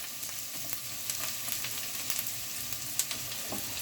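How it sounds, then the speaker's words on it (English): Onions sizzle gently in butter in a frying pan over low heat, a steady close crackle with scattered small pops and a faint stir, no voices. "Turn it on to low now that the onions are sizzling a bit."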